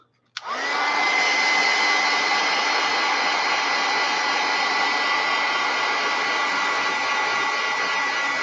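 A hair dryer runs steadily, blowing hot air over an art journal page. It switches on abruptly after a brief click and holds a loud, continuous whirring roar with no talk.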